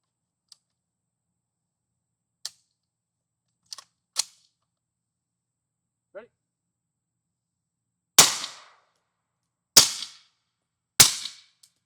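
Several sharp gunshots through welded tuna-can suppressors ring out one at a time, a few quieter pops first and then three louder cracks about a second and a half apart.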